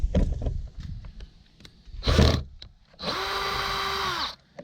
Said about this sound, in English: I need to unscrew these screws